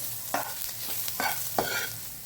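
Onions sautéing in a pan until golden brown, a steady soft sizzle with a few spatula stirring scrapes at intervals, close and alone.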